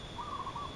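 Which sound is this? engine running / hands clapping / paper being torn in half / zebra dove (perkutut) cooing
zebra dove (perkutut) cooing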